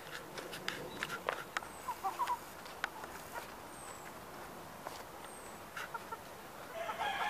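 Scattered hen clucks and short fowl calls from an old Alsace hen, over a steady outdoor background, with a few soft footsteps; no talking.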